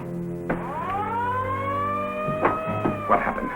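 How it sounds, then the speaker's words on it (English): An alarm sounds aboard a ship, a steady harmonic tone that rises in pitch like a siren winding up, loud and continuous, with brief bangs and clatter breaking in toward the end. "Yoga, that's the alarm."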